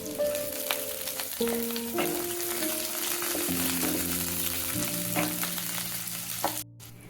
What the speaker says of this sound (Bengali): দেখো পেঁয়াজ আর লঙ্কাটা পুরো ভাজা ভাজা হয়ে গেছে।